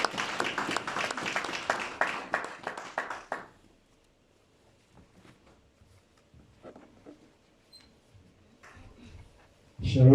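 A church congregation claps in a fast, loud burst of rhythmic applause mixed with voices, then it drops to near quiet with faint scattered sounds before a sudden loud swell at the end.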